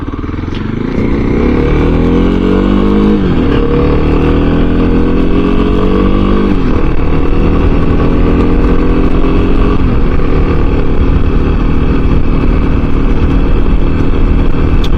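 Kawasaki KLX 300 motorcycle ridden on the road, engine loud and close, droning and rising through gear changes with steady wind rush underneath for the whole stretch.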